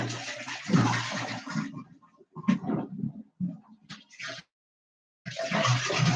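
Water gurgling and rushing out of a spun bottle in a swirling vortex while making mead, in bursts separated by brief silences, close and fairly loud.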